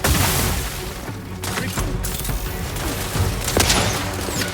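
Dense, continuous video-game gunfire from The Outer Worlds 2, a steady barrage of shots and booms with sharp transients scattered throughout, loud and close without letup.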